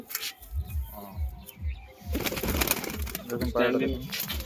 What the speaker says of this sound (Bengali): এটা হচ্ছে ম্যাটরাজ হ্যাঁ ম্যাটরাজ পায়রা